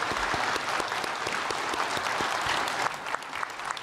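A church congregation claps for one another during a service, a full, dense burst of applause from many hands, steady and loud, easing slightly near the end.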